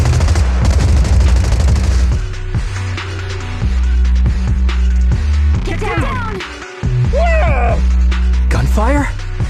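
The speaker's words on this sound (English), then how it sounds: "Gunfire? This pattern. Suppressive marching fire." Rapid suppressive marching gunfire in the Zenless Zone Zero video game, loud bursts of rattling automatic shots and booms in a continuous barrage, with voices speaking over the firing.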